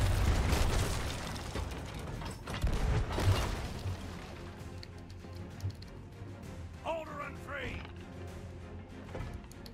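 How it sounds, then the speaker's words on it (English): Cannonballs striking a pirate player aboard a ship in Sea of Thieves: several heavy, crunching impacts and wooden creaks in the first few seconds, then quieter ship noises while a voice speaks. "I keep getting hit in the face with cannonballs, but they don't one-ball me"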